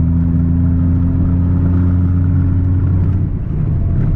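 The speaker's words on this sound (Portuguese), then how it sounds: "vocês agora já sabem exatamente quando que o motor tá com a turbina cheia" A 2014 Volkswagen Golf TSI engine running hard with the turbo at full boost, a loud, steady mid-pitched drone with strong harmonic hum that holds for several seconds before easing slightly near the end, heard close with no talk.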